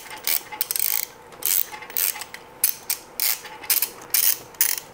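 A ratchet with an Allen socket loosens the exhaust header bolts on an R1M motorcycle during an Akrapovic titanium exhaust install. It gives quick rhythmic bursts of close-up clicking, repeated in short strokes with brief pauses between them.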